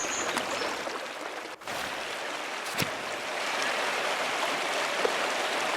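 Steady rushing water of a waterfall at a shrine below mountain snowmelt near an abbey in the game Pentiment, a broad continuous hiss with a couple of brief clicks, no speech.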